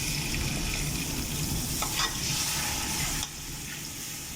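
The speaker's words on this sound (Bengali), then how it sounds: "টমেটো পেস্টকে ভালো মতো সতে করতে হবে।" Tomato paste sautés and is stirred in a pan while Arabic makbuj rice is being made. A soft, steady sizzle runs throughout, with faint scraping stir strokes, and it drops a little quieter near the end. No one speaks.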